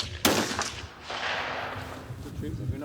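A sharp gunshot from a .243 caliber rifle cracks out once near the start, followed by a lingering outdoor rumble and background voices talking.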